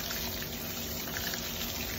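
Tap water runs steadily as hands are rinsed, a continuous close rushing splash with no pauses and no talk.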